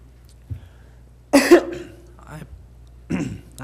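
A person in a committee meeting coughs in a loud, rough burst around the middle, with a smaller throat-clearing sound later and quiet room noise between.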